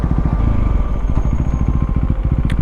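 A motorcycle engine thrums with a rapid, steady pulsing as it rides along, loud and close, with a brief high squeak near the end.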